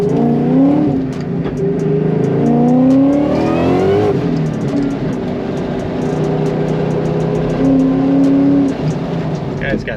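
A Ford Coyote V8 engine swapped into a 2000 Saleen S281 revs and rumbles up and down loudly, with rising and falling pitch sweeps over a steady low drone.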